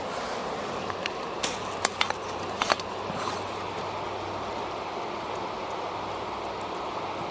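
Steady broadband rushing of a river flowing past its bank, the Latorytsia at Chynadiievo, continuous and fairly close, with a few faint clicks and taps over the water noise and no talking.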